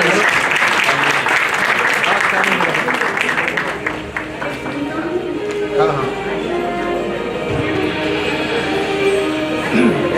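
A warm round of applause greets an award recipient at a Rotary awards ceremony, dense and loud at first, then thinning into scattered claps as crowd murmur and talk continue underneath.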